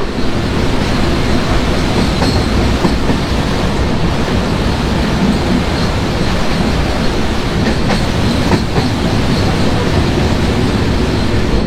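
A Kolkata to Radhikapur Express train in India rumbles steadily along the tracks, a loud continuous roar with faint rhythmic clatter throughout and no voices.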